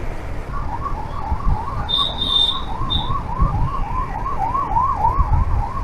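Ambulance siren on a road, wailing steadily in repeated rising-falling sweeps, moderately loud over traffic rumble, with a brief higher tone partway through.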